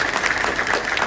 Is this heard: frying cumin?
no